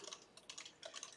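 Rapid, light clicking of someone typing on a computer keyboard, a quick irregular burst of keystrokes, very faint and alone with no talk.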